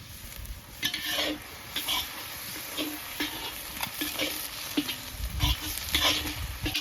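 Bay leaf and ginger garlic paste fry in a pan for a village-style fish curry, sizzling steadily beneath repeated scraping strokes of a stirring spoon, close and alone.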